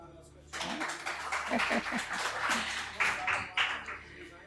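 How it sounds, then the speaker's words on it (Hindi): A seminar audience breaks into clapping for someone, a dense spread of claps in a room that runs throughout, with voices mixed in underneath. "इनके लिए ताली हो जाइए।"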